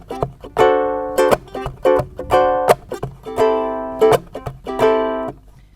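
A ukulele is strummed in a swing rhythm, each long down stroke followed by a quick up stroke, giving an uneven lilting pulse of bright chords, close and alone with no voice.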